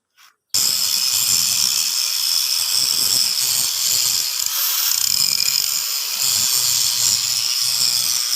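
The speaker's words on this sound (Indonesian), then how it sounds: "Kenapa bearing ini kita gerinda?" A grinder cuts into a seized bearing stuck on its shaft, starting abruptly and running as a loud, continuous high-pitched grinding hiss for several seconds.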